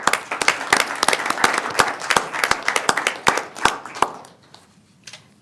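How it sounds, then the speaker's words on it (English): A school board meeting audience claps, a crisp, fairly close burst of many hands that thins into a few last claps before fading to quiet. "We can clap."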